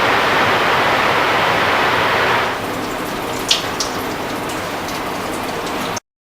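Water rushes steadily through a laminar flow demonstration apparatus in an environmental engineering lab, a loud broadband wash that drops to a quieter steady flow partway through, with one brief clunk.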